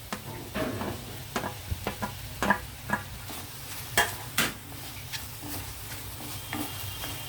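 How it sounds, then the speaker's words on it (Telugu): Prawns frying together with sliced onions in a pan, a soft steady sizzle with scattered stirring clicks and scrapes of the spoon, fairly quiet and close, with no talking. "ఈ ఉల్లిపాయలతో పాటు రొయ్యలు కొంచెం వేగితే బాగుంటుంది కొంచెం వేగనిద్దాం"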